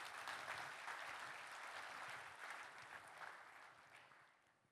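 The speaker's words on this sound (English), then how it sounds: "Give him a big round of applause" Sustained audience applause fills a large keynote hall at an AI and automation enterprise conference, a dense wash of many hands clapping that stays steady, then gradually fades toward the end.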